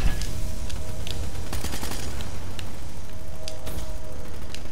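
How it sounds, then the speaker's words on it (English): Gunfire from a Black Ops 3 multiplayer match, a steady wash of shots with scattered sharper bursts across the whole stretch, loud and continuous, with game noise and no talk. "Keep shooting him."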